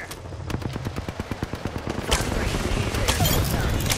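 Rapid automatic gunfire from a video game, a steady burst of evenly spaced shots for about two seconds, then denser overlapping fire and blasts that continue loudly to the end.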